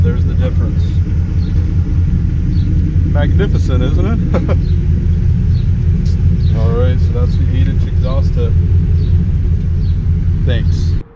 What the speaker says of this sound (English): that is the sound of the 8-inch exhaust tip on a V8 Silverado truck